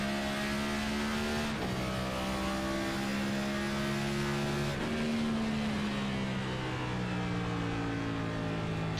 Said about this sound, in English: He's definitely downshifting a little bit early to try and anticipate the braking zone of the 51